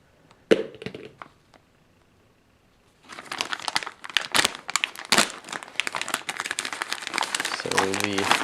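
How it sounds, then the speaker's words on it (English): A plastic pouch from a Chinese PLA Type 13 field ration is cut open with a knife, giving close, loud, continuous crinkling and tearing. A brief knock and a quiet pause come first. "So I'll just use a knife and get it open that way."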